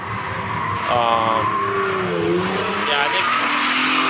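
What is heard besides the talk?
drift car doing a lap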